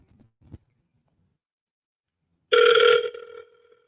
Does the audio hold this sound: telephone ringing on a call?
yes